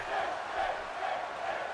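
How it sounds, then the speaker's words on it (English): A wrestling arena crowd in Detroit, Michigan cheers in a steady, dense roar at a 205 Live match, loud and sustained throughout with no distinct breaks. "Crowd getting behind Finn Balor"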